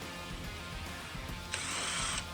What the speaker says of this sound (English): And then we're using our step drill again